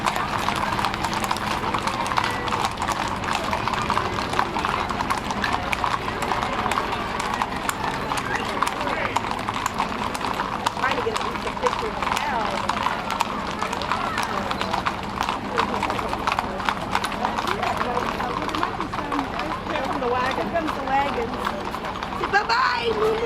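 Horses' hooves clip-clopping on pavement during a cattle drive in Costa Mesa, a continuous irregular patter of many hoofbeats with people talking and a crowd murmuring throughout.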